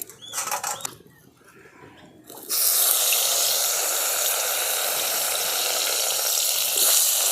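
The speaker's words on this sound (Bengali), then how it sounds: "দেখুন তেলটা গরম হয়ে গেছে এরপর আমি একে একে মাছগুলোকে ভেজে নিচ্ছি" Koi fish (climbing perch) dropped into hot oil, prepared as tel koi: after a quieter start, a loud, dense, steady sizzle erupts and holds strong to the end.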